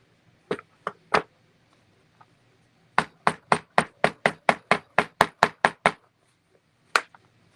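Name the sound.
hammering a part into a clock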